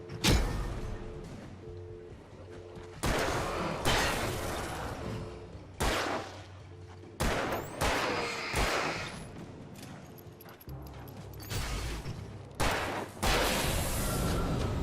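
Repeated gunfire bursts in Alan Wake Remastered, heard during a trip into the woods: about eight loud, sharp volleys spaced a second or two apart, over a steady low hum.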